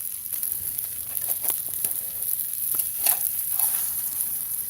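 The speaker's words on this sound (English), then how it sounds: "You hear that water boiling?" Water on the ground boils and sizzles beside a fire, a steady crackling hiss with scattered pops and snaps, close and constant, with no talking.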